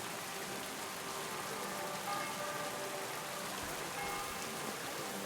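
Rain falls steadily in Kingdom Come: Deliverance II, a soft, constant hiss of drops on the ground, faint and even, with no voices over it.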